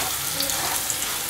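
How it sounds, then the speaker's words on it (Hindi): Potato and pointed gourd bhujia frying in a pan, salted partway through, giving a brief, steady sizzle with a constant crackling hiss and no pauses. "और इसको थोड़ा फ्राई करेंगे।"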